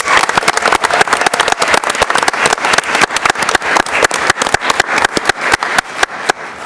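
An audience applauds an educator of the year at an evening presentation, with loud, sustained clapping from many hands filling the room and no voices over it.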